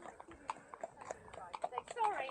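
Horses' hooves clip-clop on a shared path, a run of light, irregular knocks heard close by, with a person talking over them.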